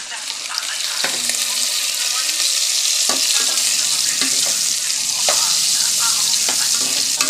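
String beans and liver sauté in a pan for ginisang sitaw, a close, steady sizzle punctuated by repeated scraping and clacking strokes of a spatula, heard alone without talk.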